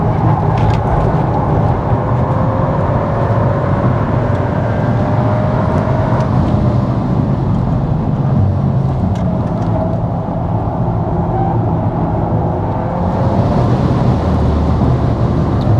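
A VW Golf R Mk8 driven flat out on a track, its engine and exhaust roaring loud and continuous from inside the car, with the pitch climbing and dropping through gear changes and no talking.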